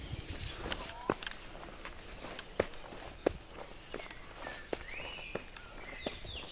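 Footsteps crunch and tap irregularly on stone at the Mayan ruins of Uxmal, faint and moderately close, with birds chirping and insects buzzing in the open air around them.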